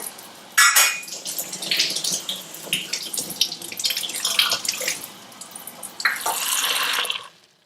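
Quail eggs being washed under running water in a kitchen sink, a steady splashing tap flow with occasional clinks and bursts, fairly close and continuous with no talking.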